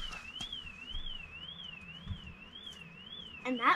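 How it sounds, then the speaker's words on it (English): A car alarm whoops up and down in a steady warbling cycle, fairly faint and distant at a busy campsite, with a few knocks and rustles nearby. "And that sounds alarm going off."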